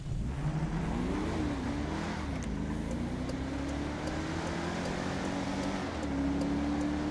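A Charger muscle car accelerating in GTA V FiveM, its engine note climbing steadily through the gears as a loud, continuous roar with no one talking.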